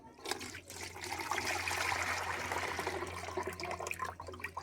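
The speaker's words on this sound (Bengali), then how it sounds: "এই ছাঁকনিটা দিয়ে এখানে ছেঁকে নিলাম।" Homemade organic liquid fertilizer poured from a mug through a strainer into a bucket, a steady close splashing trickle lasting a few seconds.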